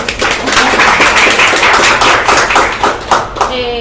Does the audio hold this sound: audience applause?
yes